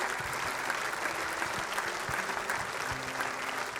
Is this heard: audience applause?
yes